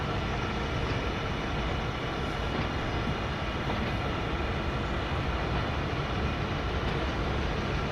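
A CSX freight train rumbles steadily with a dense, continuous low roar and rail noise in Train Sim World 5 on the Boston–Worcester route, doing switching work near Framingham.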